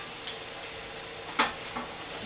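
Scallops sizzle steadily in a saute pan, a soft continuous hiss broken by a few sharp clinks or scrapes of turning, with no talking.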